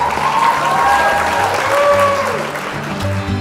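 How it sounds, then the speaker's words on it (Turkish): A crowd bursts into sustained applause, a dense wash of clapping holding steady throughout with some voices mixed in. "Biz de bir alkış hak ediyoruz sanırım."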